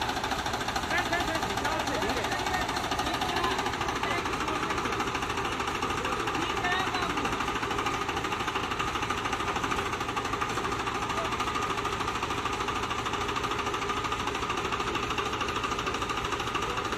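A tractor engine labours hard under load while pulling a trolley in rural Rajasthan, with a loud, continuous rattling chug that never lets up and voices faintly beneath it.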